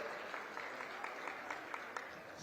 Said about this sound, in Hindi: उनके लिए भी ताली बजा करके स्वागत करो।